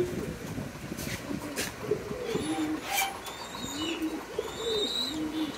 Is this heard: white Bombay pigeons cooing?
yes